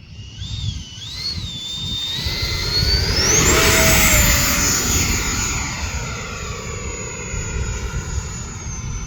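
E-flite F-16 80mm electric ducted-fan RC jet making a nose-high touch and go, a rising whine that swells loud as it passes close by, then holds a steady high-pitched roar over outdoor wind noise.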